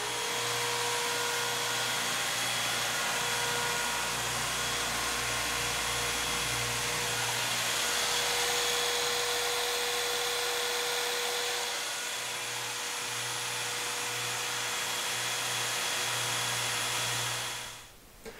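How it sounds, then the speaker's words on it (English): A grinder, belt sander, drill press and chop saw run together off a Bluetti AC200P power station in a steady, loud mechanical whine and hum, with a motor tone that drops out and returns midway, then everything winds down at the end. "Just got grinder, belt sander, drill press, and my chop saw."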